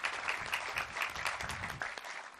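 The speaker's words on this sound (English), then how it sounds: "let's give them all a round of applause" A crowd applauds the workers at the USS Illinois Navy commissioning ceremony from Newport News Shipbuilding. The clapping is steady and fairly faint, a dense patter that holds for a couple of seconds without any voices.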